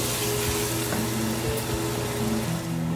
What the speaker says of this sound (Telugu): ఈ మసాలాలన్నీ కొద్దిగా ఆయిల్లో ఫ్రై అవుతాయి, దీన్ని కలుపుతూ వేపుకోవాలి